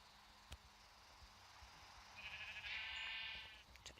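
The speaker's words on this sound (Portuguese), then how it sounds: "Tá, achei uma ovelha, tá bom." A sheep bleats in a video game, one drawn-out wavering bleat rising out of steady background noise near the end, with a couple of soft clicks around it.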